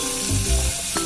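Cinnamon and cloves frying in hot oil with a steady sizzle, with a few low stirring scrapes in the pan over a short stretch.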